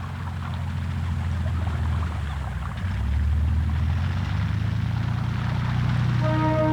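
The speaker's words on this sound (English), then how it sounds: "The airplane that made this unique attempt possible was one of the most successful flying boats of all time, the Savoia Marchetti SM-55" Droning engines of a Savoia Marchetti SM-55 flying boat, a steady low propeller roar that swells slightly partway through and holds, with no voices.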